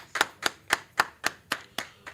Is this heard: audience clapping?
yes